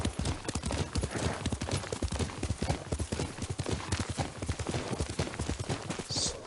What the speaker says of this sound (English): Yuriko's horse. She can't be far.